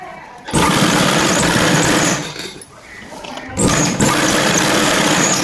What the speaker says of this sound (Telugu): సో నేను ఇక్కడ నుంచి అయితే స్టిచ్చింగ్ అనేది చేస్తున్నాను.